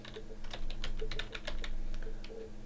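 Rapid keystrokes on a computer keyboard while entering Greenfoot Java code, a steady run of close, crisp clicks over a faint background hum with no talking.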